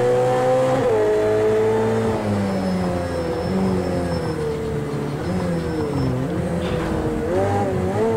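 Race car engine in an Xbox One X racing game, a loud continuous whine with pitch rising and dipping through gear changes and cornering, steady and close throughout.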